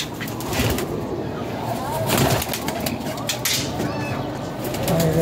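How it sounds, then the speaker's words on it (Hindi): Soft Teddy pigeon coos sound close by over a steady rustling background, with a few faint birdlike calls scattered through. "ये कबूतर है जी माशाल्लाह"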